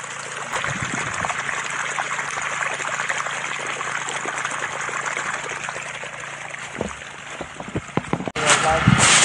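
Continuous trickling, splashing irrigation water flows steadily nearby on a lanzones farm, with a voice speaking briefly over it and a louder rush near the end.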